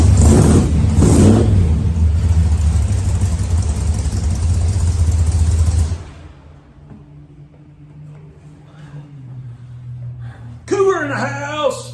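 A 1967 Mercury Cougar engine roars loudly under acceleration and then drops to a lower, steadier running note. Near the end a voice breaks in over the engine.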